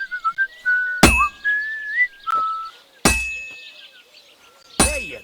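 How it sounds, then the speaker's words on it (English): A melodic tune is whistled while a sword is forged in Kingdom Come: Deliverance II, broken by three loud, ringing hammer strikes on metal spaced about two seconds apart. "That's some nice whistling."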